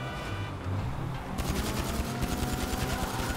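Rapid gunfire from Grand Theft Auto V fills the scene, a dense, continuous burst of machine-gun style shots running throughout, loud and close with no pauses.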